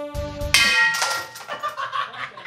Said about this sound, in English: Did you throw a glass at me?